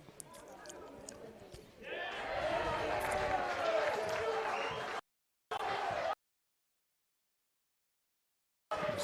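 A football crowd at a Brunswick Juventus versus North Geelong Warriors match swells into applause and cheering for a throw-in. The noise is broad and sustained for a few seconds, with a commentator's voice before it, then cuts out abruptly.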